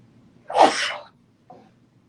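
One loud, close sneeze, followed by a faint short sound a moment later.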